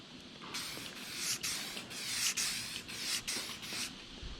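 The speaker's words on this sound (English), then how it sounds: "So you just want to spray it on." Spray paint hisses from an aerosol can onto a 1977 International Scout II on a cold day, in a series of short and longer bursts, about eight close, sharp sprays separated by brief pauses.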